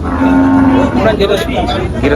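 A cow moos at the Tepakhola cattle market in Faridpur, a loud, close, drawn-out low call lasting most of the moment over faint crowd murmur.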